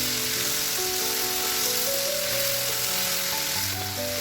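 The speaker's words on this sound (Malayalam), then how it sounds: "മീഡിയം ഫ്ലെയിമിൽ വേണം നമ്മൾ മീൻ പൊരിച്ചെടുക്കാനായിട്ട്, അല്ലെങ്കിൽ മീൻ പെട്ടെന്ന് കരിഞ്ഞു പോവും" Fish sizzling and frying in oil in a pan over medium flame, a steady close crackle throughout with no talking.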